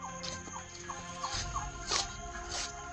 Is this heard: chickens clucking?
yes